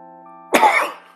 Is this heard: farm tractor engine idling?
no